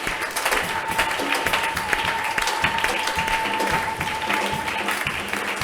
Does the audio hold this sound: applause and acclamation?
yes